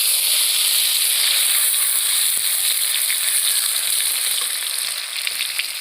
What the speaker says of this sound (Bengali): আমি এবার টমেটো কুচিগুলো দিয়ে দিচ্ছি